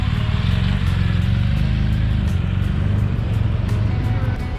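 A motorcycle in Asheville pulls away with a loud, low engine drone and some revving, close at first and easing slightly as it leaves.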